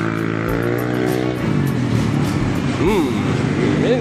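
A Yamaha Aerox B1 190cc motorcycle engine revs loud and close, rising and falling in pitch over steady engine noise, with someone talking throughout.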